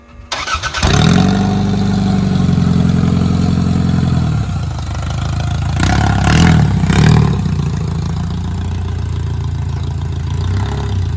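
Demolition derby car with an old fuel pump cranking and starting, then idling loudly up close, settling into a rough, steady run with a brief rev midway.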